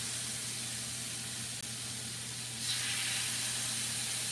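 Marinated chicken dropped into a hot oiled skillet gives a steady broadband hiss that swells louder partway through and keeps going, with no talk over it.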